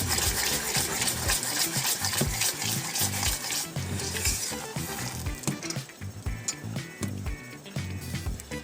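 Sugar syrup boiling in a pot for butter toffee popcorn: dense bubbling and sizzling with scraping stirring sounds, loud and continuous throughout, no talking.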